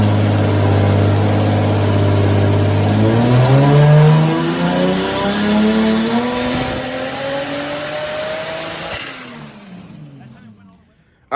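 Toyota 1JZ/2JZ-engined car revving hard on a dyno during fuel pressure drop troubleshooting, with the engine note rising steadily through the revs before cutting off and fading near the end, loud and close.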